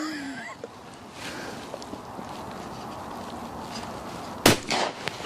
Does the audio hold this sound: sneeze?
no